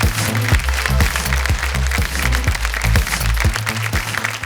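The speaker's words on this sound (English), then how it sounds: "Give a round of applause, ladies and gentlemen." A crowd at an evening Women's Day fashion show claps steadily throughout, with dense continuous applause and a few louder hand claps standing out near the front.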